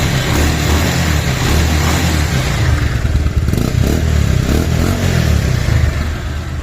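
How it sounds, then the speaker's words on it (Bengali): A 2020 Bajaj Pulsar DD 150cc motorcycle engine revs with the throttle, a loud, steady, gritty roar running throughout, swelling slightly in the middle as the accelerator is opened. "এবার আমরা অ্যাক্সিলেটরদের সাউন্ড শুনি।"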